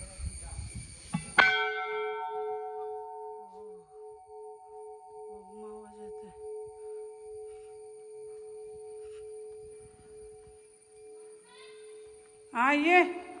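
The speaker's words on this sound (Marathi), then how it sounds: "घंटा बघा किती मोठी आहे" A large temple bell struck once, ringing out with a bright clang and a long, sustained, slowly fading metallic hum, with brief voices before the strike and again at the end.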